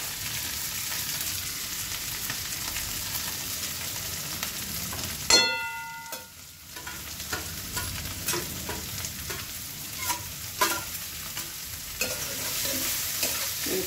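Chopped onion, ginger and four chilies fry in a hot pan with a steady close sizzle and stirring scrapes, broken midway by one sharp metallic clang and a brief lull before the frying noise returns.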